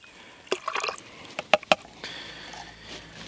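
Water poured into fishing groundbait mix for feeder fishing on the Dniester River, heard as a few close, brief liquid splashes and drips in short bursts over a quiet background.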